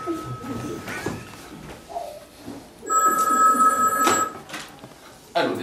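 A telephone rings on a theatre stage during a live performance of a French comedy. A single electronic ring lasts about a second, with people's voices and stage movement around it.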